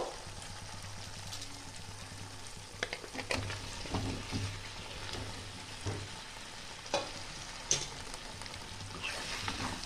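Chicken pieces tossed into fried masala sizzle in oil with a faint continuous hiss, occasional stirring clatters and scrapes, and a low steady hum underneath, without talk.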